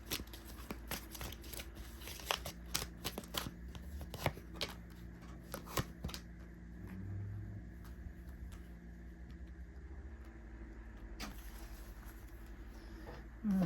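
Tarot cards being shuffled by hand, a run of crisp riffling flicks and taps over several seconds, then a quieter stretch with low background hum, close and fairly soft with no voice.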